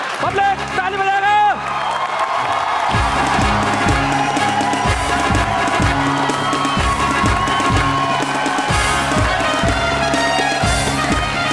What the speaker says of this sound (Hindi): पब्लिक ताली बजाएगा।